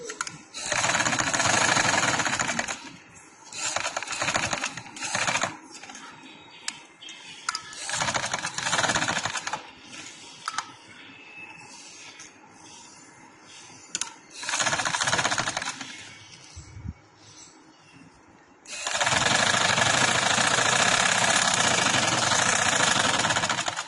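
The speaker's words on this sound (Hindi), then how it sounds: "अब मैं इधर से सिलाई शुरू करूंगी और गुलाई की शेप देते हुए इधर आके मैं खत्म करूंगी" An electric sewing machine stitches the collar of a ladies' shirt, running in loud, steady whirring bursts separated by short pauses, with a long continuous run near the end and no talk over it.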